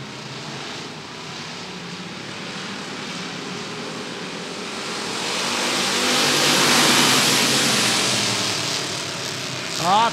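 Roadrunner-class stock cars roar off together from a heat-race start at Rockford Speedway, a broad engine drone that swells over several seconds as the field passes nearby and then eases slightly, with no voices.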